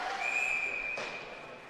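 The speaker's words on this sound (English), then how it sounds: "Now a whistle." A referee's whistle sounds at an all-star ice hockey game, a single sustained shrill blast that carries over crowd noise and applause in the arena.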